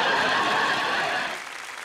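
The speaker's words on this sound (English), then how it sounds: "Oh, I like the applause. The applause is good." A studio audience applauds loudly and steadily at a British comedy panel quiz show, the dense clapping fading off toward the end.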